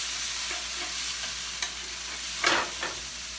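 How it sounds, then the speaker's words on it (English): A chicken or beef vegetable stir fry with broccoli and carrots is stirred in a wok, with a steady sizzle under a few scraping clatters of the utensil against the pan, close and moderately loud, no talking. "I'm going to give that a little stir here, see how things are coming along."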